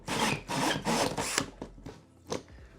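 A hole saw cuts drywall in several short rasping bursts grinding back and forth, then a few scattered scrapes, close up with no talking.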